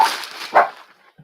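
Dogs in a home bark, two quick close barks followed by a faint short yip at the end.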